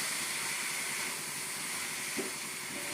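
Vegetables for a veg pizza fry in oil in a pan, giving a steady, even sizzling hiss close by with no pauses.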